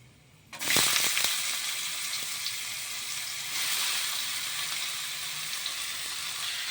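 Chopped bottle gourd drops into a hot pan with a loud burst of sizzling that settles into steady, close frying, with a few clinks and a brief surge partway through.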